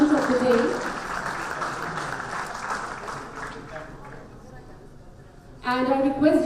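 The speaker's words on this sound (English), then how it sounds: "With a huge round of applause, ladies and gentlemen" An audience applauds at the Pharma Ratan 2018 award ceremony, with steady clapping under a loud announcer's voice and a brief burst of cheering and music near the end.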